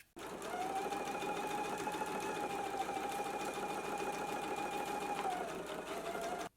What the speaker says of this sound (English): Let's go ahead and stitch it in place now.